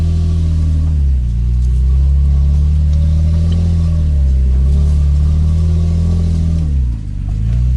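A 2017 Toyota Tacoma crawls up a ditch off-road, its engine loud and close, droning steadily with several rises and dips in revs as the throttle is worked.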